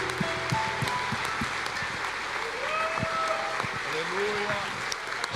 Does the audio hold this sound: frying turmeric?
no